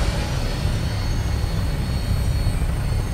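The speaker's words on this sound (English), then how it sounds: "All systems go. We're clear for takeoff." An aircraft taking off in Fallout 4, a steady loud roaring engine wash with a broad hiss and no breaks, heard close and continuous throughout.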